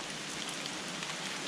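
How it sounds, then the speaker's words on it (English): A mini hailstorm falls on a winter trek toward Annapurna Base Camp in Nepal. Small pellets patter densely and evenly all around, a steady crackling hiss with no voices. "just been caught in a mini hailstorm"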